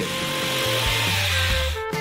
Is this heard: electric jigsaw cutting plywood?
yes